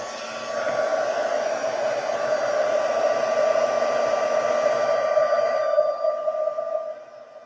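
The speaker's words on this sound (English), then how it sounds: "And my heat tool," A heat tool used to melt gold embossing powder runs with a steady whining blower hum, loud and close, holding for several seconds before switching off and fading near the end, with no talking.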